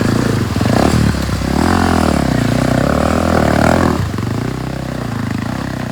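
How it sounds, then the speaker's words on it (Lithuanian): An enduro motorcycle engine revs hard close by on a jungle trail in Vietnam, rising and falling in pitch, then settles to a steady rumble with some rattling. "tai man davė pervaryti ir jo motociklą"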